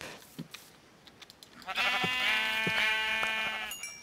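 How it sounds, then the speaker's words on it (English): Sheep bleat repeatedly in the Minecraft Feed The Beast video game: a long, loud, wavering bleat, then several shorter ones, with a few soft game clicks beforehand and no talking. "Ooh, sheeps."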